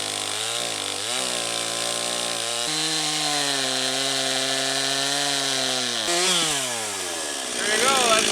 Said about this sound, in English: now let's go out and cut some firewood